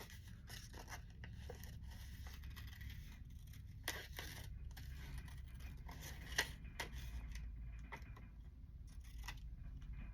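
Scissors trim paper for a fussy cut in ephemera crafting, giving faint, close snips and scraping clicks scattered irregularly over a quiet room background.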